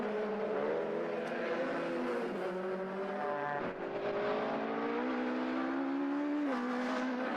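A heavily modified Ford Escort race car accelerates hard out of a corner at Oulton Park, its engine a sustained, loud rising whine with gear-change dips, heard alone without commentary.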